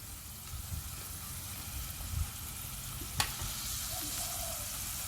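Wontons deep-frying in boiling oil give a steady, soft sizzling hiss throughout, with a few faint clinks and one sharp tap midway, no voices.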